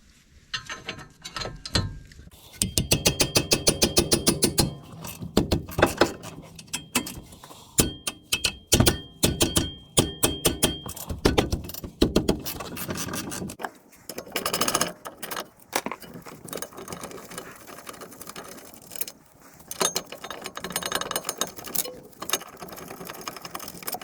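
A ratchet backs out two 15 mm brake caliper bracket bolts on a 2013-2020 Ford Fusion/Mondeo rear wheel, giving bursts of rapid clicking separated by short pauses and clunks, heard close.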